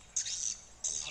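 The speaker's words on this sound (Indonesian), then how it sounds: "Mantap ini burung walit ini." Swiftlets give two sharp, high chirping calls in quick succession, fairly close and clear against a quiet background at a bird colony on Bukit Tirig, Sandakan.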